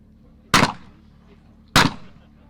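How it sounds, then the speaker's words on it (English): A shotgun fires twice at clay targets during a shooting competition, each report a sharp, loud crack with a short fading tail, spaced just over a second apart in quiet surroundings. "Some fantastic shooting there from Chris Danie"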